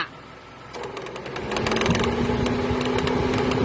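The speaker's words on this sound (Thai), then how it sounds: "คอมลูกตีนะคะ มีเสียงดังนะคะ" A steady mechanical whine with rapid rattling clicks from a Honda CR-V second-generation engine bay, growing louder partway through as a worn-bearing AC compressor engages, close and continuous.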